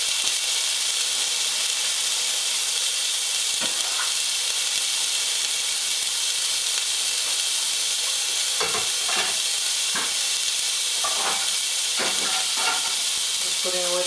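Pork fat melts and sizzles in a pot, giving a steady, bright, close hiss throughout, broken later by a few clinks and stirring scrapes, with no talk.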